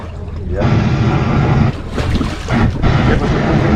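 Strong wind at sea buffets a sailboat as a loud, gusty rumble and roar of wind noise that swells and dips across the few seconds.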